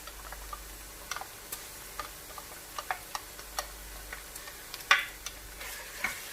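Ginger garlic paste fries with onions for a beef kabab karahi: a quiet background sizzle under scattered sharp spoon taps and stirring clicks, one louder scrape around the middle.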